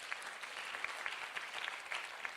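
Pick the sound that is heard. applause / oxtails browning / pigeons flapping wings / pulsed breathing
applause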